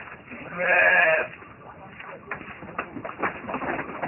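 A farm goat gives one loud, close bleat, followed by quieter shuffling and rustling noises around it.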